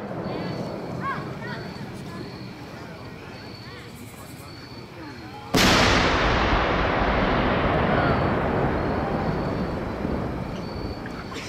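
A large firework rocket with a six-pound black powder motor and a ferrotitanium tail launches suddenly mid-clip with a loud whoosh. The roaring, crackling hiss of the rising tail follows and slowly fades as it climbs, over steady outdoor wind noise.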